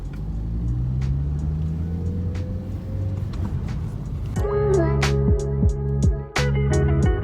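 A taxi car rolls along city streets in Vinnytsia, its engine a steady low rumble from inside the cabin, rising as it accelerates, with a few clicks and tonal beeps near the end.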